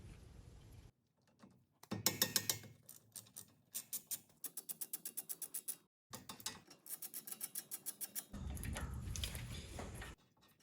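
A ratchet loosening the 13 mm brake caliper slide bolt on a 2018 Chrysler Pacifica, rapid clicking bursts in repeated runs with short pauses, close and distinct.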